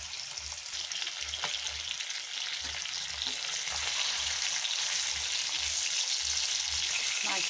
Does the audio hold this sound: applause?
no